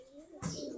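Native Giribaz pigeons coo softly and faintly in a single short burst, with no talk.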